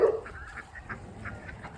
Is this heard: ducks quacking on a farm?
yes